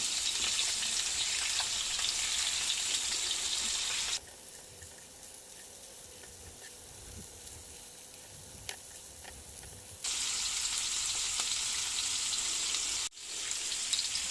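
Salmon pieces fry in a pan in a camper van kitchen, a steady crackling sizzle that drops to a softer simmer mid-way, then swells loud again before a brief cut and return.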